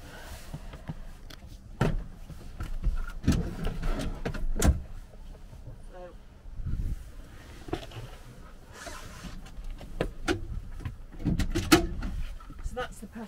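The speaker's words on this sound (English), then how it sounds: "I'll just quickly show you spinning one of the seats." A swivel seat is turned inside a Mercedes Westfalia Marco Polo camper van, with a few clunks, mechanical rubs and brief knocks spread across the stretch, moderately close and broken up by quiet gaps.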